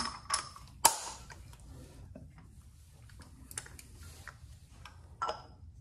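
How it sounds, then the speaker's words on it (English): Metal clicks and a couple of sharp ticks as a cup wrench is fitted with a swivel and extension for the old oil filter housing on a Porsche GT4 during an oil change, close and fairly quiet with brief taps spaced apart. "I'll go ahead and set up my cup wrench for the old filter housing."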